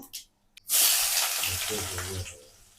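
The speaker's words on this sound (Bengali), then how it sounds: "এখানে পেঁয়াজ আর রসুন কুচি দিয়ে দিলাম" Chopped onion and garlic hitting hot oil for a vegetable khichuri, a loud steady hiss of frying that starts suddenly after a brief pause and holds for about two seconds before easing off, with a low voice faintly underneath.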